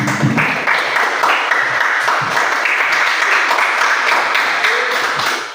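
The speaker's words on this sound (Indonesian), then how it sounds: "tepuk tangan untuk Bapak Ketua" Classroom applause for the class leader during a school physical education lesson, a continuous burst of clapping from students lasting several seconds before fading at the end.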